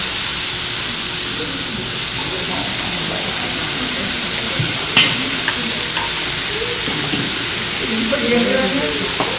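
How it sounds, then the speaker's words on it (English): Vegetables, thicker pieces included, sizzle steadily while being stir-fried and steamed in a pan, with a continuous hiss and a few brief clinks, plus faint voices in the background. "It's going to help continue by way of stir frying and steaming the vegetables, especially the thicker ones."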